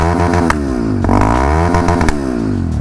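A Taro GP-1 V4 250cc 2026 motorcycle in neutral, with its loud factory-fitted exhaust, is revved hard close by. The engine note climbs and falls in repeated throttle blips over a steady rumbling idle, with no talk.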